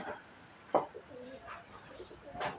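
Kept domestic pigeons coo softly and a little distantly outdoors at a rural home, with a few low calls scattered over faint background noise.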